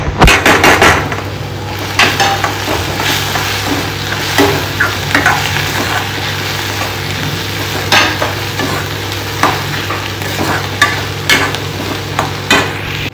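Onion and garlic paste frying in a pan for pav bhaji, a loud steady sizzle broken by repeated clinks and scrapes of stirring throughout.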